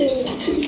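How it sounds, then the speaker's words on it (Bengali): A Raj Golla pigeon coos close by, one short, full, throaty call with no talk over it. "এক একটা কবুতরের ডাকের কোয়ালিটি কিন্তু এক এক রকম, এক এক রকমের।"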